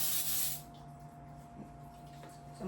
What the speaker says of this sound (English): I just add some non-stick cooking spray and spray my pan